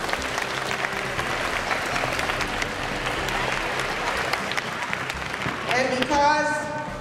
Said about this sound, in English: Now we're going to ask our students to give themselves a round of applause.